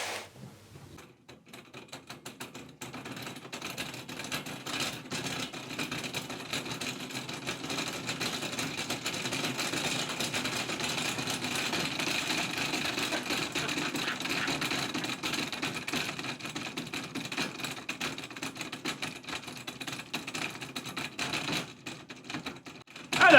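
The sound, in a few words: BMW fan used as a generator, cranked up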